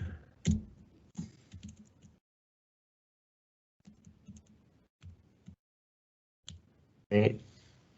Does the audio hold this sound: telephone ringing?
no